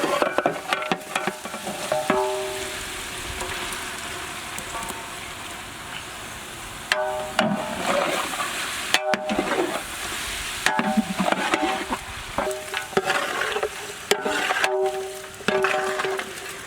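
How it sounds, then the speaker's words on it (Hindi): Ginger garlic paste and onions fry in a pan for Nizami murg, crackling and sizzling loudly up close while a spoon stirs and scrapes repeatedly in an uneven rhythm. "जिंजर गार्लिक पेस्ट और ऑनियंस अच्छी तरह पकते वक्त हम लोग इसमें रोस्टेड चिकन ऐड करेंगे।"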